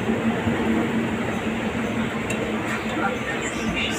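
A train on Mumbai's Western line approaching Dadar station gives a continuous rumbling clatter with faint ticking of the rails, heard from close by with background voices mixed in.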